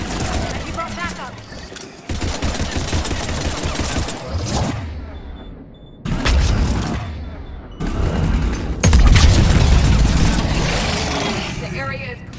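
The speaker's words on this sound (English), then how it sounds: "Careful! One of the large ones is exploding." A large enemy blowing up in the Mass Effect 3 Legendary Edition video game, with loud booming bursts and gunfire-like crackle that come in waves and leave short silent gaps between them. Voices and game sounds mix in with the blasts.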